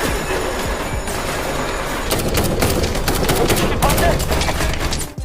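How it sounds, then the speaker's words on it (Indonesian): Rapid gunfire crackles through a firefight between a captain's team and North Korean soldiers in the disaster film Ashfall, dense overlapping bursts that swell louder over a rumbling background. "terjadi baku tembak antara tim Kapten Jo dan tentara Korea Utara"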